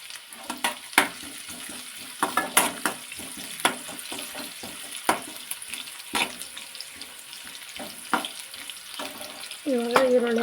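Green chillies frying in oil in a pan for cabbage gobi manchurian, a continuous sizzle broken by sharp clicks and scrapes of stirring, with a louder burst of sizzling near the end.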